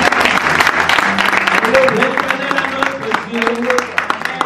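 Church congregation clapping loudly and continuously for Jesus, a dense steady wash of applause filling the room with voices speaking over it.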